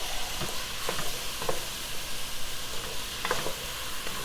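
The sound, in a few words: stirring sausage sizzling in pan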